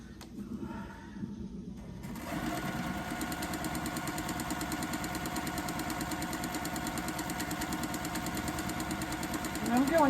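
Sewing machine stitching quilt block seams, starting after about two seconds into a steady fast mechanical whir with even stitch pulses that continues to the end, with a voice faintly under the start.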